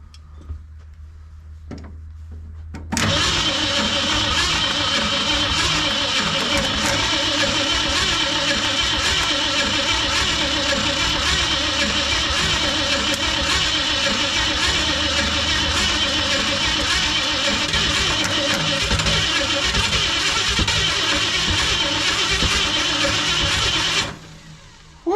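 A starter cranks the engine of a 1964 Ford Fairlane that sat in a barn for over 25 years, grinding steadily and loudly for about twenty seconds without catching, then cutting off abruptly.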